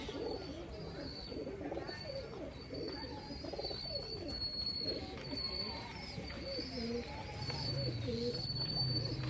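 Pigeons at a pigeon farm coo repeatedly in soft, overlapping calls, with a constant low rumble and faint chatter in the background.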